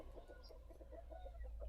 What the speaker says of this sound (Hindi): ये देखो, ये देसी मुर्गियाँ, प्योर देसी।